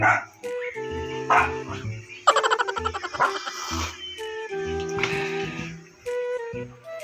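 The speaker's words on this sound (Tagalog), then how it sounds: "Gulo naman yung mga aso." Several dogs bark and yip in bursts, fairly close, with a quick run of sharp barks in the middle and short pauses between outbursts.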